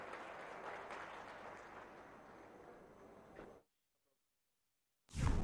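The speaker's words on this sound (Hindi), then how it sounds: "जोरदार तालियों से माननीय सांसद महोदय का स्वागत करें।" A crowd at a Madhya Pradesh government event applauds to welcome a member of parliament, a fairly faint, even spread of clapping that fades and then cuts to silence before a loud burst of sound starts at the very end.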